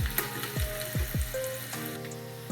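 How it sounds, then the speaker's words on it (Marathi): Tadka tempering crackles in hot oil for a batch of oats and moong dal idli, with a few sharp popping bursts over a steady close sizzle. "तडका तडका"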